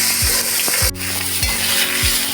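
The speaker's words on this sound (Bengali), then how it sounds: "তেলটা গরম হয়ে গেছে মাছের মাথায় নুন হলুদ মেখে রেখেছিলাম এবার ভালো করে ভেজে নিই" A fish head rubbed with salt and turmeric fries in hot oil with a loud, continuous sizzle, close up, broken by a few low knocks as it is moved in the pan.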